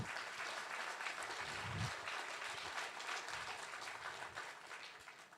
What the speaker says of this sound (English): A big applause for Red Cross and the connected women